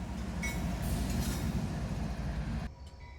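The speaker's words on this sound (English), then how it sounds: "the crossing gates and lights activated, and I heard the rumble of the engine" A single CSX diesel locomotive rumbling out of a rail tunnel, a loud continuous low roar with wheel and engine noise close by, dropping off abruptly near the end.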